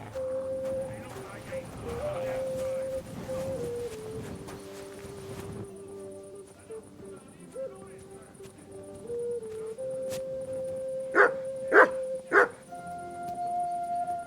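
A dog barks in the Kingdom Come Deliverance 2 video game, with several sharp barks near the end after a stretch of in-game speech and ambient tones.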